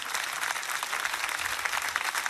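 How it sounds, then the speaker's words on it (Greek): Studio audience on a Greek television talk show breaks into steady, dense applause, close and loud, with continuous clapping throughout. "Ένα τρελό χειροκρότημα"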